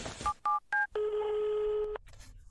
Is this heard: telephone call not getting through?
yes